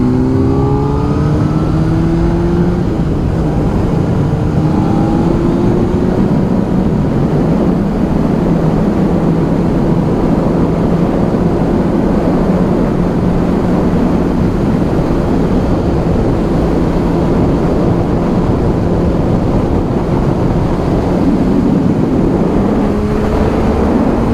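A 2009 Honda CBR600RR sport motorcycle rides a twisty test road, its engine note loud and steady throughout with rising pitch sweeps as it accelerates through the gears, accompanied by constant wind rush.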